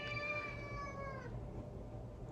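A 19-year-old cat with dementia gives one drawn-out, wavering meow that lasts about a second and fades, heard close and faint over low background hum.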